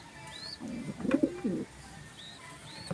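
A pigeon gives a soft, low cooing call up close, a short rolling burst in a quiet setting with a few faint high chirps around it.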